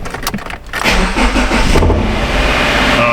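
A Subaru Forester 2.5 engine with a faulty electric power steering rack cranks with a few quick starter whirs, then catches and settles into a loud, steady idle close by.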